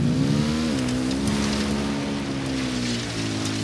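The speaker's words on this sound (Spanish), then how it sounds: "Yo voy a pillar la moto." Motorbike engine in the video game Ghost Recon Wildlands, a steady droning hum that holds one pitch, dips and shifts slightly, then carries on loud and continuous without a break.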